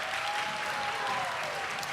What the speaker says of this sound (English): Can y'all clap it up for time?